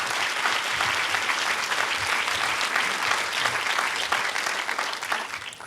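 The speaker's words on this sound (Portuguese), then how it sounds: "Você pode dar uma salva de palmas a Jesus nessa hora?" A church congregation bursts into sustained applause, dense steady clapping from many hands filling the room at an even loudness throughout, with no voices standing out.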